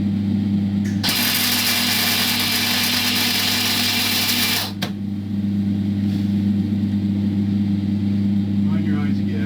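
Cheap welder working on stuck nuts on a Honda CB500 motorcycle: a harsh, loud crackling burst lasts about four seconds over a steady low engine-like hum, then cuts out and the hum continues alone.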